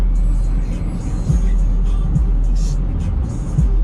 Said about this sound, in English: guy in a Mazda 6 Turbo